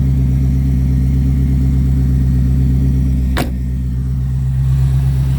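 A C4 Corvette running with no mufflers, exhaust only through the mid pipe, drones in a steady loud low rumble with one brief sharp click partway through, no voices.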